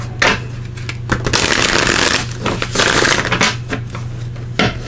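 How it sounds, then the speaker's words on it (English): Tarot of Dreams cards get a quick shuffle, close and crisp riffling and flapping bursts with short pauses between passes over a low steady hum. "I'm just going to give these a quick shuffle"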